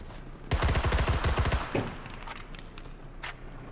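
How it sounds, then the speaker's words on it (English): Rapid automatic SMG fire in the WWII shooter Enlisted: one loud sustained burst of about a dozen closely spaced shots, then a few scattered distant gunshots and battle noise. "I'll just pull out the SMG"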